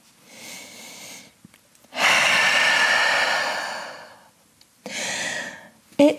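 Deep, slow breaths drawn in and pushed out through the nose while holding a downward dog pose in a gentle vinyasa yoga flow; a soft breath, then one long loud exhale, then a shorter breath, close to the mic with no talking.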